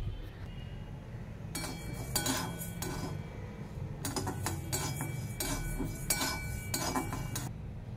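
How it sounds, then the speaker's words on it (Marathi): Urad dal, fennel, fenugreek and black pepper dry-roasting in a hot kadhai bring bursts of bright metallic clinks and rattling as the spatula scrapes the pan, separated by quieter gaps, with no speech. "तर पहिले आपण ना गरम कढईमध्ये हे भाजून घेऊया."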